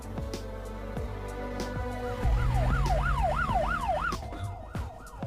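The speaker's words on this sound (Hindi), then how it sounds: "ये तो पुलिस का सायरन है।" A police siren wails, sweeping up and down in quick repeated cycles, rising in loudness as it approaches, over a low rumbling background.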